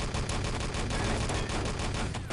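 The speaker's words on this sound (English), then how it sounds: "He's still firing as they move towards the main road" Rapid, dense gunfire in Wolfenstein: Enemy Territory, overlapping automatic bursts from several weapons that fill the whole stretch loudly and without pause.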